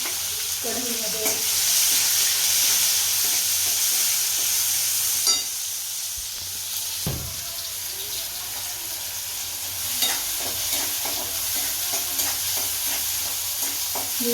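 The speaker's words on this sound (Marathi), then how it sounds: "इकडे कांदा टमाटे गेलेला आहे कढईमध्ये." Onion and tomato frying in a kadhai while being stirred, with a steady close sizzle, scattered scrapes and clinks of the spoon against the pan, and no talking.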